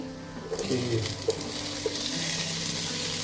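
Tomato with green chillies sautéing in a pan for a chicken roast, a steady close sizzle with occasional stirring scrapes and small pops, no talk.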